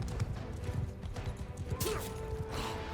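Horse hooves pounding during a horse archer battle in Mount and Blade 2 Bannerlord, a dense low clip-clop of galloping mounts with clattering impacts and a short whoosh, mid-distance over battlefield din.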